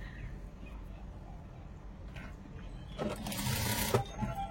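A sewing machine stitches a frock, running in a steady close mechanical whir for about a second after quiet room tone, with no clear talking.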